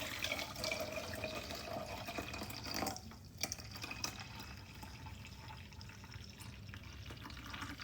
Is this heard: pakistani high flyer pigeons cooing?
no